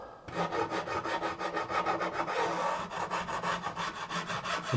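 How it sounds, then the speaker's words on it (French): A metal file rasps across the edge of a wooden board in repeated back-and-forth strokes, each a close, scratchy rub with a steady rhythm, heard alone. "Un petit coup de lime."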